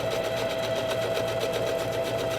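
A sewing machine runs steadily and loudly, stitching around a felt tooth shape with white thread, a continuous fast mechanical whir with no pauses and no talking.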